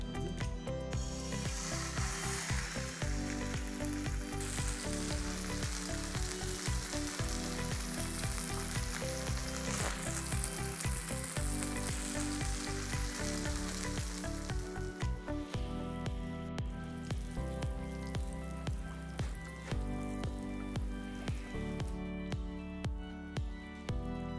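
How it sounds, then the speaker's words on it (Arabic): A plain burger patty fries in a small splash of oil with a steady nearby sizzle, partly masked by rhythmic background music. "رشه زيت بقى صغيره كده. نبدا اول حاجه نسوي البرجر الساده بتاع سمارت."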